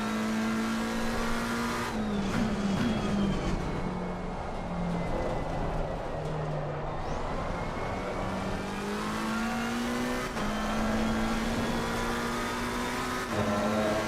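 A McLaren race car engine screams at high revs in a sim racing game, the steady near drone dipping on downshifts and climbing again as it accelerates, with a brief tire squeal.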